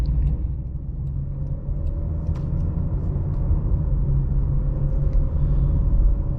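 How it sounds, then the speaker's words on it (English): Cabin rumble of a 2022 Jaguar E-Pace SE with its 2-liter turbo engine on a road drive: a low, steady, fairly quiet drone with road noise beneath it, no voices present. "So far, the 2-liter turbo is pretty quiet, which is good."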